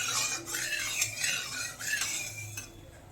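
A metal spatula or ladle scraping and stirring around a wok, spreading hot oil before frying fasha fish, with light rhythmic clinks and scrapes near and fairly clear.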